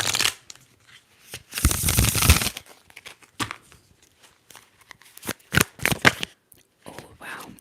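Tarot cards being shuffled up close, a dense riffling burst followed by scattered soft flicks, taps and card slides, with no talking.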